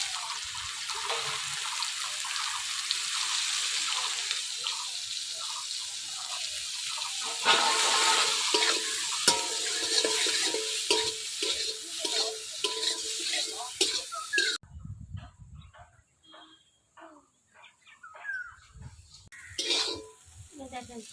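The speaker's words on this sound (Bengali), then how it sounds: "দেখেন সয়াবিনটা কি সুন্দর ভাবে ভাজা হয়ে গেছে।" Soybean chunks frying in oil and being stirred in a pan, a steady close sizzle with scraping that gives way to quieter clatter and running water later, with occasional talk.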